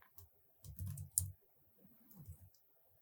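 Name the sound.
typing on a computer keyboard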